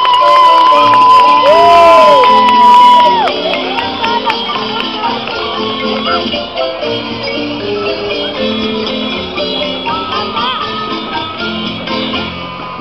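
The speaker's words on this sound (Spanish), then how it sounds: "Fuertes, fuertes los aplausos" An outdoor crowd in San Miguel de Allende claps and cheers for the Chiapanecas dancers at a festival, a loud, continuous wash of noise with music-like tones threaded through it.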